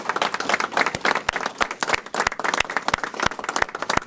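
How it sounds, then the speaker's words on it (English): Audience applause for military veterans and active duty service members at a Capital Region press conference in New York, a dense burst of clapping that rises and falls in loudness for several seconds with no talk over it. "Let's give them all a round of applause and thank them for their service"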